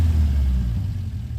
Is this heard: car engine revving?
yes